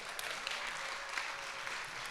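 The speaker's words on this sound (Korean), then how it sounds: "모두 환영의 박수 한번 부탁드릴게요." Welcoming applause from a congregation at a Korean church youth service, a steady wash of many hands clapping at moderate distance, fairly quiet and even throughout with no speech over it.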